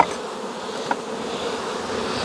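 Honeybees swarm around a nucleus hive, a close, continuous buzzing drone with one brief knock partway through and no talk.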